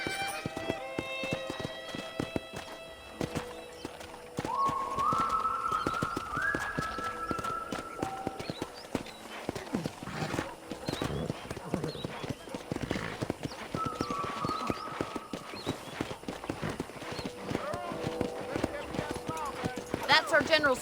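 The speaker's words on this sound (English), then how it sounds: "let's see if you can still ride a horse." Horse hooves clip-clopping and galloping in the video game Red Dead Redemption, a steady rapid rhythm running throughout with occasional whinnies, under game music and character dialogue.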